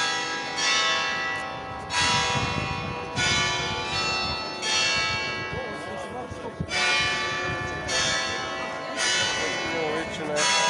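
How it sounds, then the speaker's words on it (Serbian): A bell that sounds like an electric bell rings in repeated bursts of roughly a second each, loud and close, during a nighttime church procession in Belgrade, with people talking throughout. "Ovo liči na električno zvono."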